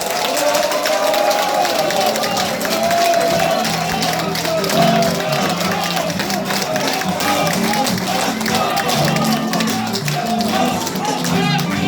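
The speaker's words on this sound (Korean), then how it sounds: "힘찬 박수로 맞이해 주십시오." Crowd at a campaign rally for a National Assembly candidate in Daedeok-gu, Daejeon, with continuous dense clapping and cheering that stays loud and steady throughout, backed by music.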